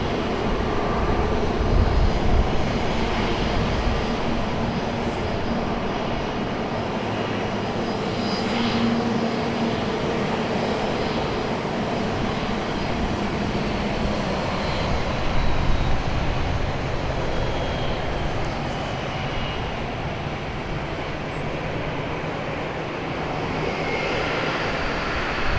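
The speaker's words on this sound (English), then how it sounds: "This is our JetBlue A220 from last Wednesday evening." A JetBlue Airbus A220 airliner at Raleigh-Durham International Airport, a sustained, broad engine roar that holds steady for the whole span, loud and fairly close, with no talk.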